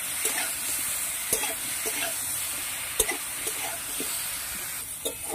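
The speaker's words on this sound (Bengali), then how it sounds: "এবং লাল লাল করে ভেজে নিচ্ছি" Cauliflower florets frying in oil until reddish, turmeric and salt mixed in, giving a steady close sizzle punctuated by sharp spatula taps and scrapes at irregular intervals, no talking.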